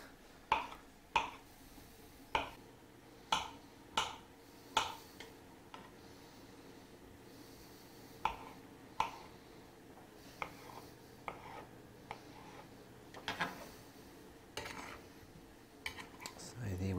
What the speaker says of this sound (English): we're just going to chop it into chunks